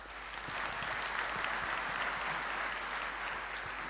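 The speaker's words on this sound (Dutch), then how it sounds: "Uw warm applaus voor Doekle Terpstra en zijn keynote" Warm audience applause for a keynote speaker opening the SISlink 2012 event, a steady dense patter of many hands clapping at moderate volume from a hall audience, with no talk over it.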